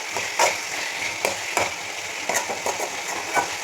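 Gravy bubbles and sizzles in a pan under a soft, continuous hiss, with a utensil scraping and tapping against the pan at irregular intervals close by.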